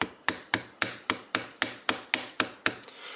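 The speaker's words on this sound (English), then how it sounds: "Maybe Thor might put a hammer down to it." A hammer strikes a glass nano screen protector on a Galaxy Note 3 about a dozen times in an even, steady rhythm, each blow a sharp, loud, close impact, with the last few hits lighter and quicker.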